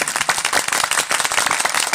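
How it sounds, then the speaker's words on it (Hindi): Hands clapping in quick, uneven bursts, fairly loud and dense like a small group, at an Odia song gathering with no speech over it. "ताली मारो रे स्टार्ट स्टार्ट करो"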